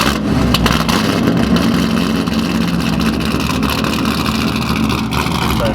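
A Derek's 560whp naturally aspirated Corvette Z06 roars steadily and loudly at close range at a Powercruise event, a dense continuous engine drone with no talk over it.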